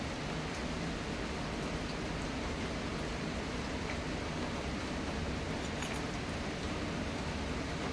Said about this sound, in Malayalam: ഉച്ച കഴിഞ്ഞ് ഇങ്ങോട്ടും മഴ